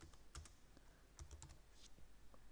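Keys on a computer keyboard are tapped in short, scattered bursts of quiet clicks with pauses between, heard close and soft with no talking.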